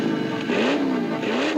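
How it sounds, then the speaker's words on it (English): Cartoon car speeding off through the streets of Rome, a steady engine drone that bends up and down in pitch, with a short squeal near the end. "We jumped into Sophia's car and took off through the streets of Rome, hot on Dino's trail."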